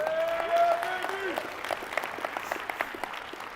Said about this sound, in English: Somebody claps, we all clap, man.